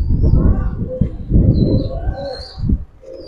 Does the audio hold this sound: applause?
no